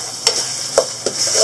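Chili paste for sambal tumis sizzles steadily in a pan as a utensil stirs it, with three quick scrapes against the pan over the hiss, close and fairly loud.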